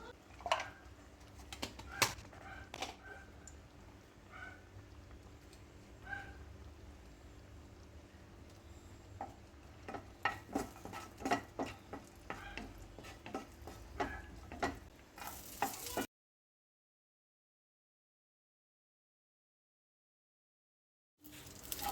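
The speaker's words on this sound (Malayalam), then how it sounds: "നമുക്ക് നെയ്യ് ഒഴിച്ച് കൊടുത്ത് അണ്ടിപ്പരിപ്പും മുന്തിരിങ്ങായി ഒന്ന്" Cashews and raisins frying in ghee in a pan while making banana payasam, with a soft steady sizzle and repeated scraping, clicking stirring strokes, then a stretch of silence before the sizzle returns briefly, no talking.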